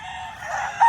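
A rooster crows in a farm chicken coop, one short loud call heard alone and close.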